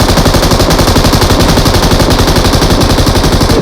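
Sustained rapid machine gun fire in a video game, loud and continuous with dense overlapping bursts and no pauses or talk.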